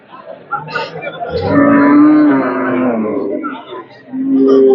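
A three-and-a-half-month pregnant cow at the Hazratpur cattle market gives a long, loud, close moo, followed by the start of another, with voices around it.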